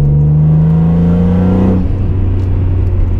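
A naturally aspirated car engine pulls hard with a rising, high-revving wail, then drops off as the driver lifts, leaving a lower steady engine drone.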